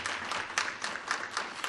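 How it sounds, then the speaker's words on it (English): An audience gives panelists a round of applause at a community lunch-and-learn event, a soft, steady patter of many hands clapping at a distance. "I'd like everyone to please give a round of applause to our panelists today."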